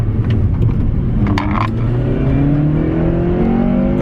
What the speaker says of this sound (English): Go for a Vtec pull.